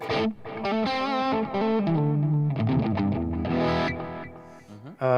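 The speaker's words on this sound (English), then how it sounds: "And again with a little bit of delay." Distorted electric guitar plays a melodic phrase, its notes trailing off in repeating delay echoes; loud and close, with no voices.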